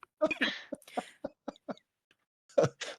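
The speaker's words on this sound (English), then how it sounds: "I just got a cough" A person gives a few short, broken coughs and throat-clearing bursts at close range, scattered across a brief moment with quiet gaps, no talk between them.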